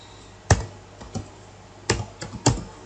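Someone types on a computer keyboard in bursts: a few sharp key clicks, then a pause, then a quicker cluster of taps, close and clear in a quiet room.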